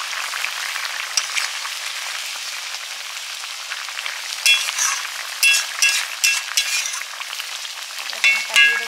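Small pond fish frying in hot oil, a loud, steady sizzle that swells into bursts of crackling spatter toward the end, with no talking.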